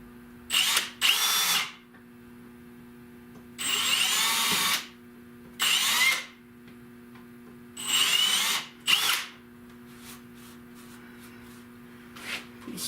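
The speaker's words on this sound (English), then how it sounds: "I'm gonna drill a little hole, a little indentation in there" A power drill whirs in several short bursts, each a second or two long, drilling a small indentation while building a car body stand, with quiet pauses between; close and loud.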